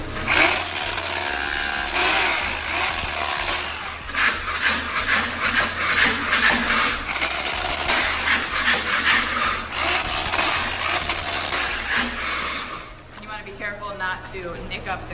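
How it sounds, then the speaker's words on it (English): A floor scraper scrapes leftover thinset off a concrete garage floor after drilling, giving a loud, continuous rasping scrape with strong broadband grit. It has a rough, uneven rhythm and keeps going for most of the span before it thins out near the end. "we're also using a floor scraper to take off any excess after using the drill off of the concrete"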